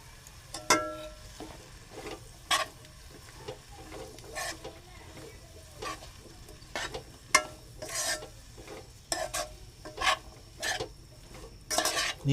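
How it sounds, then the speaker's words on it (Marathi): A raw papaya vegetable dish is stirred in a pan, a series of scraping and rubbing strokes spaced a second or two apart over a quiet low sizzle. "बघा भाजी मस्तपैकी आपण ढवळून घेणार आहोत आता."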